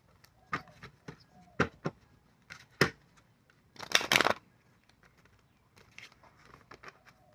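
Tarot cards are shuffled by hand in a series of soft, papery riffles and taps, with one longer burst of flutter midway. The sounds are close and fairly quiet, with brief pauses between them.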